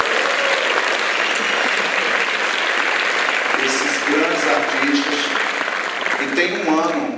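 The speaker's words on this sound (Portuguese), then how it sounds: "Um aplauso para o Itamar Assunção e para Alice Ruiz." An audience at a Brazilian literary festival event applauds, a dense sustained clapping that stays loud throughout while a voice speaks over it.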